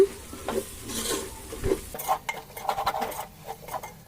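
Ground spices being stirred into mutton biryani in a pot: a spoon scrapes and clinks against the metal pot under a soft background sizzle, up close, with no speech.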